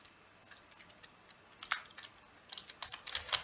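Keys tapped on a computer keyboard during Tally ERP 9 data entry, a sparse run of light clicks that grows quicker and more clustered near the end, fairly quiet.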